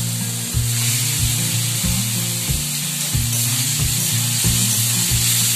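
Fried eggs stirred into spiced masala in a pan give off a loud, close, continuous sizzle, with a regular rhythm of spatula strokes scraping through the thick mixture, no one speaking.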